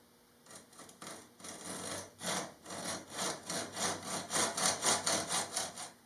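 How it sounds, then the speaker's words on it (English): Hand-sawing a stainless steel hinge to length: a rapid, rhythmic series of rasping strokes, close and alone, that starts slowly and speeds up into steady back-and-forth cuts. "Got a stainless steel hinge that I'm going to use for the cover of the cooktop, and I have to cut that to length."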